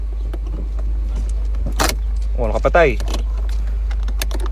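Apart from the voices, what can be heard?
car keys jangling while pulling key from Ford ignition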